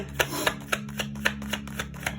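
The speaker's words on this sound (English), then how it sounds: "We'll do a full shuffle here." Tarot cards being given a full shuffle, a quick run of crisp papery slaps repeating at a steady fast pace, close and clear over a low steady hum with no talking.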